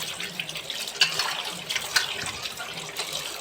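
Steady stream of tap water splashing into a bowl for washing fish, continuous and fairly close, with a few brighter splashes along the way and no talking.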